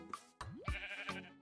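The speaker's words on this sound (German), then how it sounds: "Hier haben wir auf jeden Fall schon mal ein Schaf." A sheep in Minecraft bleats a couple of times up close, short nasal wavering calls standing alone against a quiet background.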